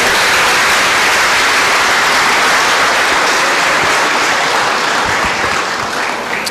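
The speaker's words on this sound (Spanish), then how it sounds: "Fuerte el aplauso a Cristo Jesús, fuerte, fuerte, esa iglesia." A church congregation gives loud, sustained applause in praise of Christ, a dense and steady roar of clapping throughout with no voices over it.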